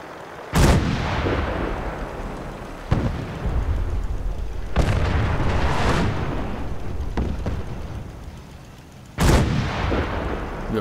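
Heavy artillery booms and gunfire in the video game Fallout 4. Several loud, reverberant blasts arrive a few seconds apart, each rolling off into a long rumbling decay.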